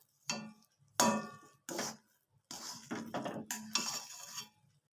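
Semolina cooked with carrot and milk stirred in a pan, several distinct close metallic scrapes and clinks of a spoon against the pan, separated by short pauses.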